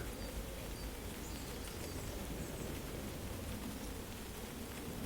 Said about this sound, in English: Now you can see this dripping that looks like rain.